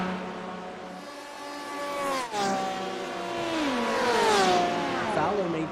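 GTE race cars in a sim racing game at Watkins Glen sweep past, their engines whining through rising and falling pitch as each car closes in and pulls away, loud and continuous.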